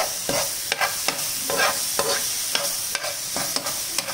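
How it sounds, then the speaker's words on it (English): Mushrooms with salt are sautéed in a pan, with a steady sizzle broken by a quick, regular series of spatula scrapes and stirring knocks, close and clear. "Saute it nicely. Don't cook the mushrooms too much because we want the crunchiness in them."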